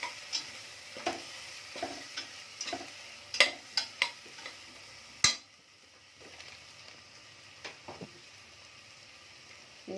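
Onions with garlic, cumin and chili paste frying in a pan, giving a soft ongoing sizzle broken by scattered clicks and stirring taps, with one sharper clatter midway and quieter hissing afterward.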